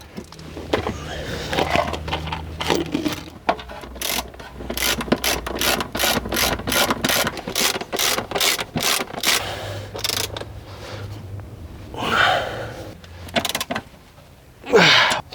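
A ratchet tightens the upper nuts on car engine mounts during turbo and injector work, giving a steady, close run of sharp clicking strokes in rhythmic bursts, with short pauses and handling noise between them.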